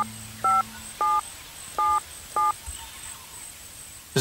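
Telephone keypad dialing, five evenly spaced dual-tone beeps in a quick sequence, clear and close against a quiet background hum.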